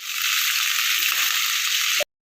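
Sliced onion and two dried red chillies sizzle steadily in a hot pan, a dense, close frying hiss that runs for about two seconds and then stops abruptly.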